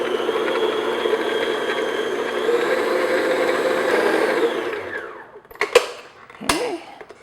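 Electric mixer whirring steadily as vanilla extract is beaten into a shortbread bar mixture, a continuous motor drone that winds down and stops, followed by a couple of clattering knocks.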